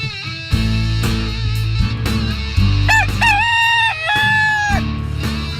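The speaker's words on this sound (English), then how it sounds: "I could watch that laughing chicken forever" A rooster crows loudly in a long, wavering cock-a-doodle-doo over a steady low background hum.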